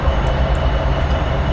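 A General Electric AC6000CW diesel locomotive in CSX service hauls a Pacific Surfliner train in Train Simulator 2019, giving a steady, loud low rumble and engine drone with faint high rail clicks, and no talking.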